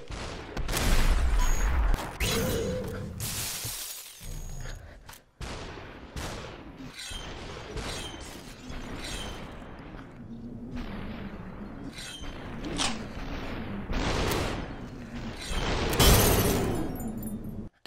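Repeated gunshots and shattering bursts ring out in the VR shooter SUPERHOT VR, loud and close, with booming impacts scattered across a busy, clattering stretch of game audio.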